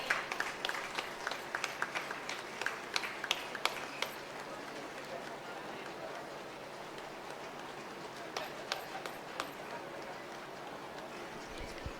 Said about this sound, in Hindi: हम जोरदार ताली बजा देंगे उनके सम्मान के लिए।